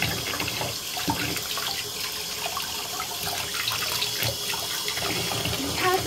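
Water runs steadily from a tap, a constant splashing hiss with faint clatter, close by and without talk.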